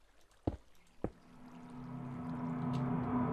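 Water pours over lava in a Polish Minecraft-style game, starting after two sharp clicks and rising into a steady rushing, hissing flow that grows louder and fills the last two seconds, with no talk.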